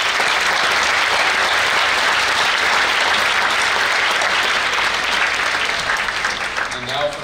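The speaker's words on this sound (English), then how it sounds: "Please give another round of applause." Sustained, loud applause from an audience at a school prize day at an academy, a thick continuous roar of many hands clapping that thins slightly at the very end.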